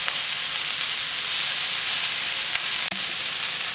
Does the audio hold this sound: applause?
no